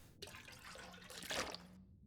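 Water being collected in The Long Dark, a faint splashing and trickling that swells briefly near the end and then cuts off.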